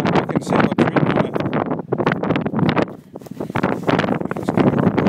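Gusty outdoor wind batters the microphone continuously, roaring up and dropping back in uneven surges, close and loud throughout with no clear speech.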